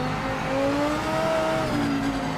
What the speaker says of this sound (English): Sounds are not realistic on engine noise